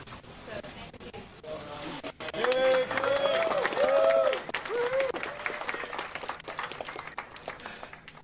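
A crowd of fans applauds at a Star Wars Celebration convention panel, building into sustained clapping and cheering that swells in the middle and then fades, with voices mixed in.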